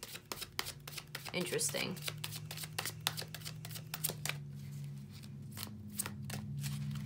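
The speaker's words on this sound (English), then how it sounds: "we're in the middle of shuffling" Repeated crisp riffles and slaps of tarot cards being shuffled, close by, with a brief spoken word partway through.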